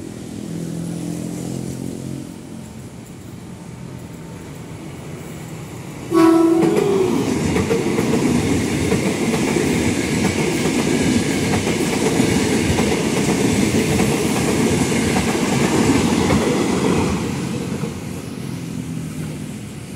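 A commuter train runs past close by near Batu Ceper station, heading toward Tanah Tinggi: after a quieter rumble, a sharp horn blast opens a long, loud, steady roar of wheels and carriages that fades slightly at the end.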